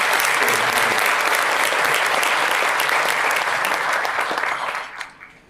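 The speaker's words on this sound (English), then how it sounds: "So let's give a round of applause for our officials" A luncheon audience gives a sustained round of applause for officials: dense, loud clapping fills the room for about five seconds, then thins and tapers off at the end.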